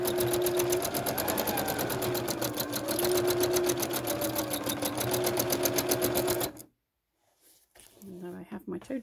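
Sewing machine running fast and steady for free-motion stitching of a bowl on dissolving film, a loud continuous mechanical buzz that stops abruptly near the end, followed by a brief quiet and faint background sounds.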